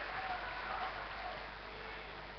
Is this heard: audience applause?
yes